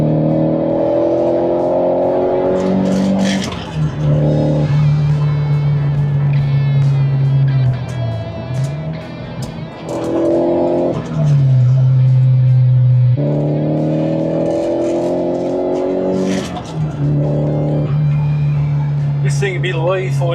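A light BMW fitted with an SR20DET engine accelerates hard and loses traction. The engine note climbs again and again through the revs in loud, close bursts, with brief drops between gear changes.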